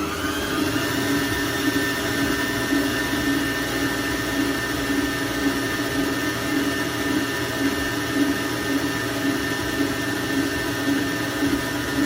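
Electric mixer creaming butter and sugar for a Christmas fruit cake, a steady, continuous motor whir with a constant pitch, loud and unbroken with no talk over it.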